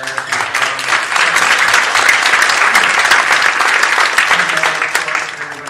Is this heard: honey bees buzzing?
no